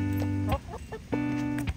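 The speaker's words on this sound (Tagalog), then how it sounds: "Ito yung mga alaga kong manok." Pet chickens on a small farm cluck in two close, loud drawn-out bursts separated by a brief pause with softer clucks between.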